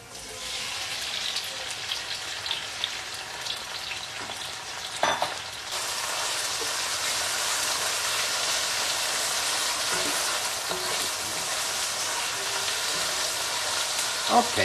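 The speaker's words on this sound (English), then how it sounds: "now we saute the tomato a little bit" Plum tomatoes, skinned and seeded, sauté in a pan with a steady broad sizzle that grows louder and denser partway through, with occasional stirring scrapes and no talking.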